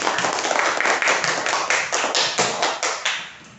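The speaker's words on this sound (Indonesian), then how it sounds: "tepuk tangan untuk Ranita dulu." Students in an elementary school classroom clap together, a loud, steady stretch of dense, fast hand claps that fills the room and tapers slightly toward the end.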